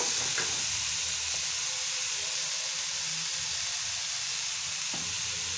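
Potatoes and beans sizzle in hot ghee in a wok for chirar polao, a steady hiss with a few scraping stirs from a spatula, close and continuous with no talk.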